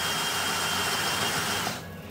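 A dull pilot drill bit boring into a handmade custom Harley-Davidson frame, giving a dense, continuous whirring grind close up that cuts off abruptly near the end.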